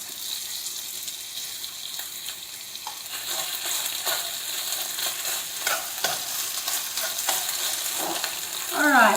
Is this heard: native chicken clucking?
no